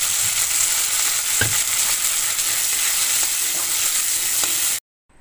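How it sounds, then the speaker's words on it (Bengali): Shrimp fry in a hot pan with a loud, continuous sizzle and occasional scraping stirs, close up, until the sound cuts off abruptly near the end. "অল্প কিছু কড়া চিংড়িগুলো আমি ভেজে নিচ্ছি"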